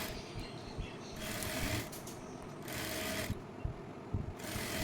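A sewing machine stitches a palazzo pant side seam an inch from the edge, running in several short steady bursts separated by pauses, close and moderately quiet.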